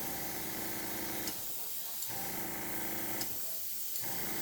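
An airbrush sprays color onto bath bombs in steady hissing bursts, each lasting a second or two and separated by short pauses, close and fairly even in level, with a faint background hum.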